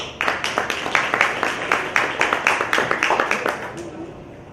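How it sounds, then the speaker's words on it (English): A warm round of applause for a speaker at a European elections hustings, a room of people clapping in a brisk, even rhythm that holds steady and tapers off at the end, with some voices underneath. "a warm round of applause, please"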